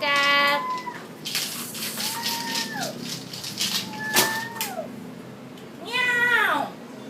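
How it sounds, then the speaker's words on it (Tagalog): A cat meows repeatedly, four drawn-out, falling cries spread across the stretch, close by with quiet background noise and no talk. "Here is the cat."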